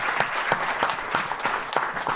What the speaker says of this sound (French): On va applaudir Maître Mike Séméon, s'il vous plaît.